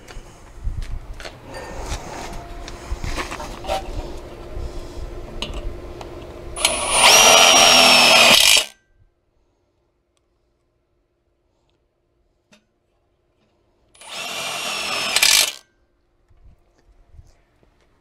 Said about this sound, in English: What I usually do is start out putting two screws in the hinge on the one side, and I'll end up putting one in the gate